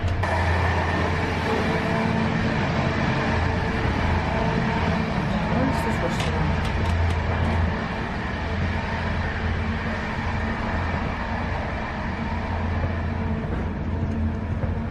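Inside a moving passenger carriage on a train crossing from Ukraine, a steady low rumble and rolling clatter run continuously, with brief high metallic squeals partway through. Someone speaks briefly over the noise.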